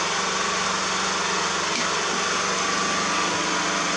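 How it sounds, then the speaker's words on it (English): A compressor runs steadily as its power feed is switched off, giving a constant close mechanical hum with a high whine and no pause or clear spin-down. "Turn off the power feed for the compressor."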